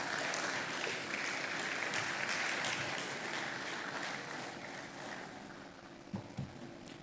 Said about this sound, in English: Keep clapping until they get here.